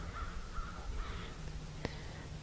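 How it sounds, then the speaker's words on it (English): Crows cawing from a tree outdoors, a few repeated hoarse caws at moderate distance over a low steady background hum. "These crows are looking for something."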